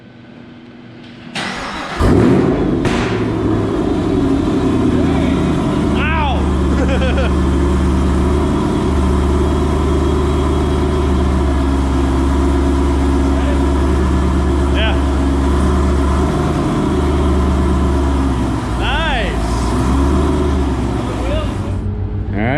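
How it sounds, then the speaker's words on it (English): A 780 HP 2017 Camaro ZL1, previously fire-damaged, cranks over and fires up, then settles into a loud, steady, rumbling idle that carries on with small fluctuations, while voices talk faintly in the background. "we're gonna go ahead, start this thing up, make sure it moves"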